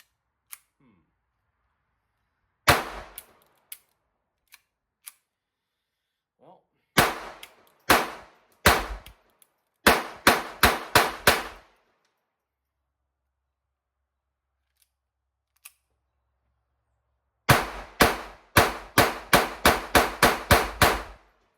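A Walther P22Q .22LR pistol fires CCI Blazer rounds at an outdoor range, with sharp, close cracks: a few isolated shots and stoppages, then quick strings of rapid fire, with a few quiet clicks between.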